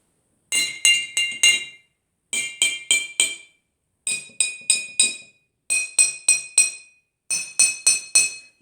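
A metal spoon taps glass cups filled with water as a homemade xylophone, ringing out five quick runs of four or five bright chimes each, separated by short pauses, clear and close with no voices.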